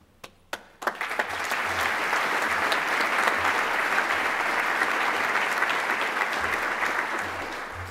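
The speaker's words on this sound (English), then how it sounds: "all participants must clap twice for all awardees" Audience at an academic colloquy applauds an awardee called forward: a few isolated claps first, then a full, steady round of close, dense clapping that holds evenly to the end.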